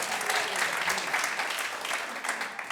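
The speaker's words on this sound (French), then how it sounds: "On les applaudit." A church congregation at a weekend gathering applauds steadily for John and Laura Madan, a dense, sustained wash of clapping at moderate level with no talk over it.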